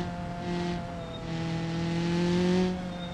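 Race car engine in a video game set in a space gravity race, droning steadily with rising and falling revs, including a shift into second gear, alone and fairly loud throughout.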